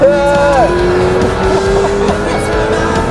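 A McLaren P1 supercar's engine roars at full throttle on a track, loud and close, its pitch sweeping up with a brief tire squeal, while a voice shouts in excitement over it.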